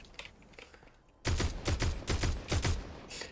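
A gun fires in Fortnite Chapter 3 Season 4, a rapid string of about six close, punchy shots in steady rhythm that start abruptly after quiet background sounds.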